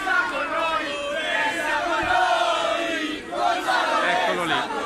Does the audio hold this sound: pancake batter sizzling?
no